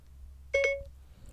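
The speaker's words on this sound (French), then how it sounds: "Après avoir entendu un bip, parlez à votre iPhone" An iPhone voice assistant activation beep, a short clean electronic two-note tone sounding once in near silence.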